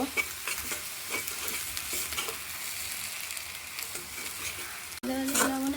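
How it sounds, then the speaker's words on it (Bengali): Beef brain frying in a pan, a steady close sizzle with repeated scraping stir strokes; near the end the frying swells louder with a brief ringing tone. "আর একটু ভাজা ভাজা করব"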